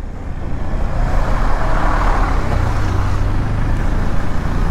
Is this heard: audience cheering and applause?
no